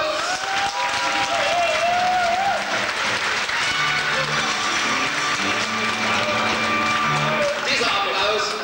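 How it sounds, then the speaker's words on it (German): An audience applauds at a carnival club's anniversary show, with the clapping forming a continuous wash of crowd noise while a voice and music carry on over it. "Dieser Applaus, so hoffe ich doch"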